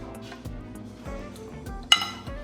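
Rice being served onto a plate with metal utensils, giving soft scrapes and light clinks of cutlery against dishware, with one sharp, bright clink near the end; no talking.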